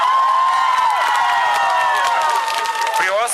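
Girls in the audience at a concert for a settlement's 75th anniversary cheer shrilly, with high squealing voices over a dense wash of clapping, loud and continuous.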